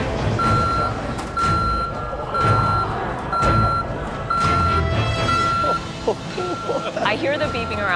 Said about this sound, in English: I hear the beeping around me